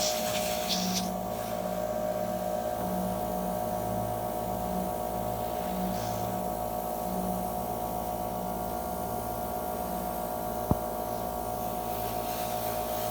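A steady electric fan hums close by, drying freshly applied eyelash extensions, an even drone with a faint buzz that holds throughout, broken only by one brief click near the end.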